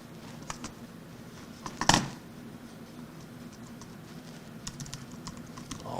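Someone types on a computer keyboard while working on a faulty computer, a quiet run of soft key clicks with one louder burst of strikes partway through.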